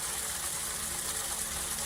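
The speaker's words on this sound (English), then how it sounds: "That is the oxygenation that is coming from a particular aeration system" A pond aeration system keeps water bubbling and gushing in a steady, continuous wash of sound, close and even, with no voices.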